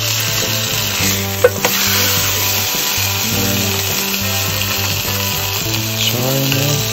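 A steak fries on a snow-camping trip in the Eastern Sierra, giving a steady, loud sizzle under a droning low hum, with a sharp click or tap near the start.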